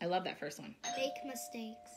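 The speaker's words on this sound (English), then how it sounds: "Sorry about the doorbell." A doorbell rings in a home with a steady chime that holds through the second half, under someone talking.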